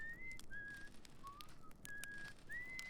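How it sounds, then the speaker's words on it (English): A character whistles a gentle melodic tune beside a campfire in the Outer Wilds video game, several short sliding phrases heard faintly over quiet ambience with no talking. "Listen to a friend of yours whistle away while you try and make the perfect marshmallow."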